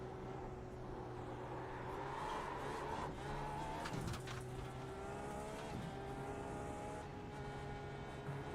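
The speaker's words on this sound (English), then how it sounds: "this is the old Indy car. This is the Dallara DW12" A Dallara DW12 Indy car races in a driving game, its high-pitched engine howling steadily with gear shifts and brief tire noise, fairly faint and without talk.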